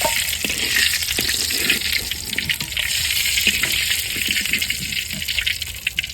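Fritters (bora) in egg batter frying in hot oil in a village kitchen, a steady loud sizzle and crackle that runs through the whole stretch with small pops and stirring clinks, no talking.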